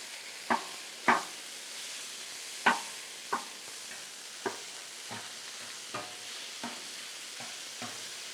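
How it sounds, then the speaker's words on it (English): Spatula chopping hamburger steak on a hot griddle for a cheesesteak, giving about a dozen sharp scraping taps at irregular intervals that fade gradually, over a steady sizzling hiss. "So now I'm going to chop it up."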